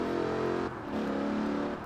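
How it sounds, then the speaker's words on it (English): Lexus RC F V8 engine in Forza Horizon 4, a steady loud engine drone holding a low pitch, dipping briefly partway through before resuming at a slightly lower tone. "I'm guessing it's just generic V8 sound they've put to this"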